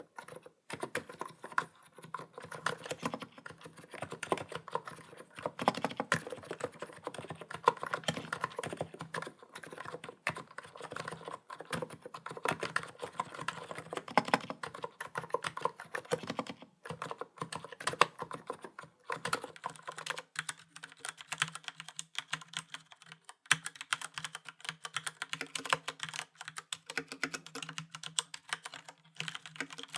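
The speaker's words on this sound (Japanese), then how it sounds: "それではここからは少しの間タイピング音をお楽しみください。" Typing on a Niz Plum capacitive keyboard and, for comparison, a brown-switch mechanical keyboard: a steady stream of close, crisp keystrokes for the full half minute, with no talking.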